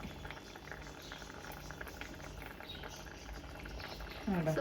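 A Kerala-style red chilli fish curry simmers in the pan, a soft continuous bubbling and popping that runs low and steady throughout, with a short voice or rustle right at the end.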